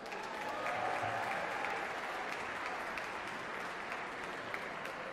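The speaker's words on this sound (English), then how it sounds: "Let's give them a big round of applause." A hall audience at a winter soiree at Mechanics Hall gives a live band sustained applause, a dense and even wash of clapping heard from within the room with a faint murmur underneath.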